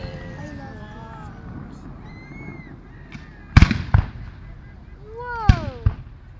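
Golden fireworks over downtown Calgary burst in two loud, sharp volleys with crackling tails, separated by a quieter stretch; whistling, gliding tones and faint crowd reactions run underneath.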